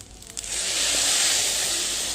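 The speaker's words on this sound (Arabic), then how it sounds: "طالما سمعتي صوت الطشاشه كده يبقى انت ماشيه مظبوط" Broth poured onto hot spiced rice in a pot while making Syrian shawarma fatteh, bursting into a loud, steady hiss and sizzle that swells after a brief start and holds close up, with no talking.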